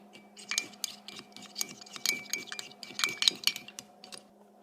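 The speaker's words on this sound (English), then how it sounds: "Then you just stir until it's all yellow." A utensil stirs egg and a little milk in a bowl for microwave scrambled egg, giving rapid, uneven clinks and scrapes against the bowl in quick bursts, close and fairly quiet.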